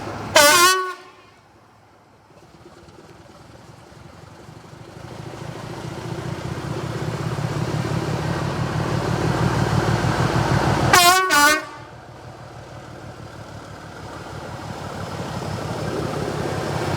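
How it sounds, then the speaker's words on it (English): A Class 25 diesel locomotive sounds two loud horn blasts, at the start and later, as its engine rumbles and grows louder while it pulls away from a heritage railway station. "here's our class 25 train leaving"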